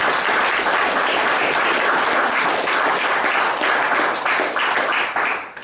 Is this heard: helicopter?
no